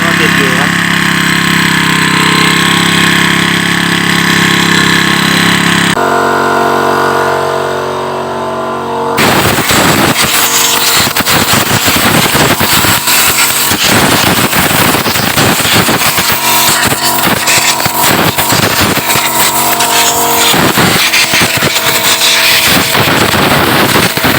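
A Makita GX35 brush cutter engine fitted with a replacement fuel tank runs loud and close for a long stretch, a dense buzzing roar with rapid uneven firing after a quieter start.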